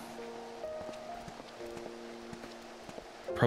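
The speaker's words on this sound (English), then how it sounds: "you can still hear the bouncing of my feet the whole time" Light, bouncy footsteps of a Final Fantasy XIV character patter in a steady soft rhythm under sustained game music, faint and close, with a brighter burst at the very end.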